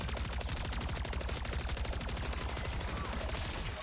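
Rapid, continuous automatic gunfire from a gun in MW3 Zombies, a dense stream of close, loud shots holding steady for about four seconds with no voices.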